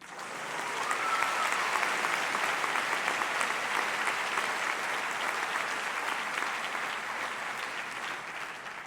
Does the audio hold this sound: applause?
yes